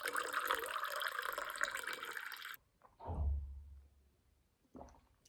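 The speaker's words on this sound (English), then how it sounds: "But here we have mountain spring water" Mountain spring water in Voskopoje, Albania pours steadily from a spout for a few seconds, stops abruptly, then splashes briefly in short bursts as it is caught and tasted nearby.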